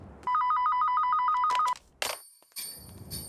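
A telephone rings with a rapid warbling electronic trill for about a second and a half, clear and fairly close, followed by short clicks and quieter room sounds.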